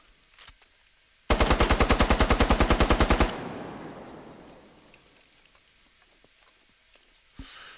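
Rapid automatic gunfire while testing a video game map: a burst of about twenty evenly spaced, loud shots lasting two seconds, followed by a long fading reverberant tail and quiet afterward.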